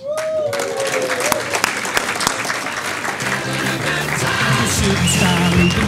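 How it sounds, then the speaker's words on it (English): An audience at a laundry and dry cleaning awards ceremony applauds an award winner with sustained, fairly loud clapping, while music with a sustained tone plays underneath. "let's have a little bit of applause for our winner"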